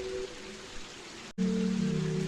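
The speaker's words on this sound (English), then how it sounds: "And it's raining." Steady rain hisses through the scene in the video game OFF, broken by a brief cut of silence before it resumes over a louder low game drone.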